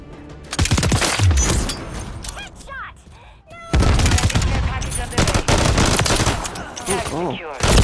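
Gunfire in Call of Duty Modern Warfare III, rapid automatic bursts and repeated shots, loud and close, with a voice talking over the shooting throughout.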